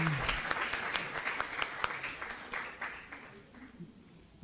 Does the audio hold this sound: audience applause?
yes